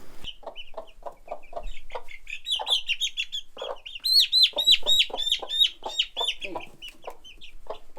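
A broody hen clucks repeatedly in short rhythmic bursts while chicks peep high and constantly throughout, close by and fairly loud.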